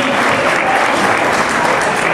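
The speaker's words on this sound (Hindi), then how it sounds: "एक बार जोरदार तालियों से गड़गड़ाहट से" Audience applause at a school foundation day celebration, welcoming a chief guest: steady, dense clapping from a large crowd, loud and continuous throughout without any break.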